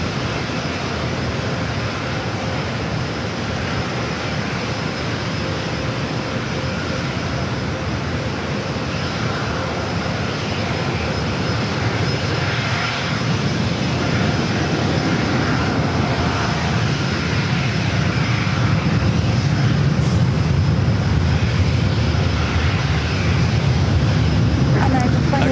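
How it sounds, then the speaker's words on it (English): Southwest Airlines Boeing 737-700 at San Diego airport, arriving from Sacramento, a steady loud jet engine roar that holds for the whole stretch and swells near the end, with faint talk under it. "Southwest Airlines flight 3159 coming from Sacramento at 737-700."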